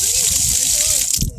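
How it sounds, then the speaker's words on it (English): Water rushing steadily from an outdoor spigot beside a visitor center building at Salt Point State Park, a close, loud hiss of gushing water that cuts off near the end, with a voice talking over it. "right there you have a water spigot"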